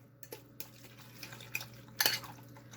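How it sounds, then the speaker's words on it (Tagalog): Chicken being mixed with marinade in a bowl: soft, irregular clinks and wet stirring knocks come close and quiet, with a sharper cluster of scraping clatter near the end and no talking. "You mix that with the chicken."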